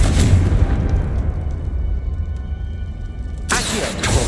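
A Confringo blasting spell explodes in Hogwarts Legacy, a loud booming burst that rumbles and decays over several seconds, followed by a sharp second blast near the end.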